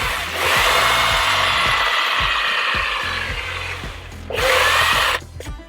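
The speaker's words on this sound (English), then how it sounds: "Then use some wet and dry sandpaper" Wet and dry sandpaper rubbing against a slowly spinning caravan part, a steady loud abrasive whirr over a low motor hum with rhythmic pulses, easing briefly before surging again near the end.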